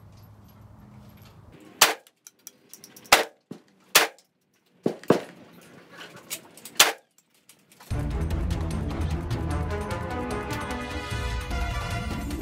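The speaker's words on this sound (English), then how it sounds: "You're shooting low and it's going low." AK-47 rifle fired at an outdoor shooting range, with about six sharp, loud single shots at irregular intervals that crack and echo briefly, followed by a steady broadband rumble of wind or background noise, with no talking.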